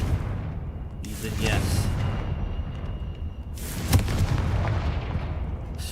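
A Confringo fire spell bursts in Hogwarts Legacy, two broad explosive blasts roughly two seconds apart ringing out over a steady game-music bed, with a voice talking briefly over it.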